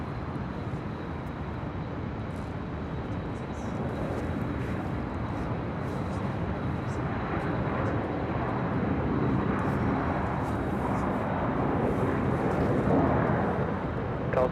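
A jet airliner at LAX airport roars continuously at a moderate distance, a broad, steady engine rumble that swells slightly across the span with faint higher whine.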